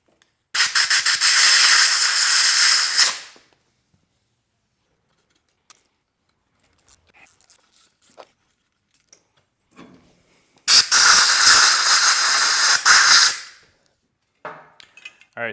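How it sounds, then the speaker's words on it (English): Compressed air blows metal chips out of a blind threaded hole in an aluminum M52/M54 cylinder block during head bolt stud thread repair, two loud sustained hissing bursts of about three seconds each, separated by quiet with faint small clicks. "you're gonna have to come out a couple times and blow your chips out"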